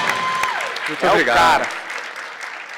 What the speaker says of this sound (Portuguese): uma salva de palmas para o Flávio